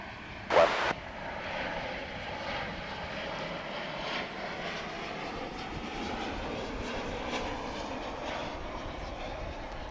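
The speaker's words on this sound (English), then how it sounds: "it's really hard to convey the, you know, the power of these aircraft as they land" Jet airliner landing at Dallas/Fort Worth Airport, a broad continuous roar heard from a distance, steady and sustained throughout, with a brief sharp knock near the start.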